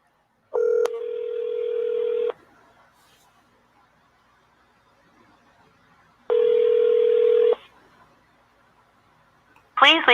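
A phone call placed on speakerphone, with two long steady ringback tones separated by a quiet pause, followed by a brief rising electronic burst at the very end.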